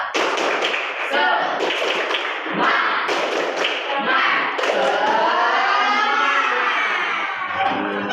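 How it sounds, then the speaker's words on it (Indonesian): A school class claps a rhythmic spirit chant together, sharp taps and thumps in quick patterned bursts mixed with children's voices and shouting throughout. "Tepuk semangat."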